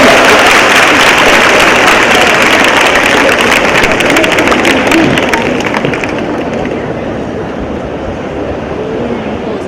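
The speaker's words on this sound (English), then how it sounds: "Please clap for him" College students at a town hall with Lt Governor Kiran Bedi in Karaikal applaud loudly and continuously, a thick wash of clapping that eases and thins over the last few seconds.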